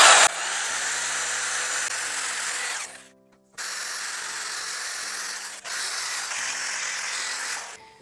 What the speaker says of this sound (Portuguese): E aqui eu vou usar essa lixa que eu adaptei na furadeira.